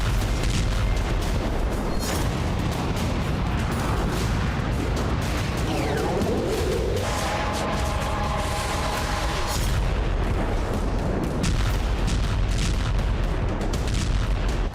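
Explosions from HAMMER bombs dropped by Ukrainian air force fighter jets, a long sustained barrage of booming, crackling blasts and rumble, with a brief higher tonal whine partway through.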